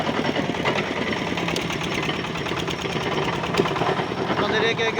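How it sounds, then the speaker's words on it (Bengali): A mini winch machine engine runs while driving sheet piles, a steady rhythmic chugging drone that continues throughout, with a voice talking over it. "এটা হলো মিনি উইন্স মেশিন। এই মেশিনের সাহায্যে আপনার এই বল্লিগুলো ড্রাইভ করা হয়।"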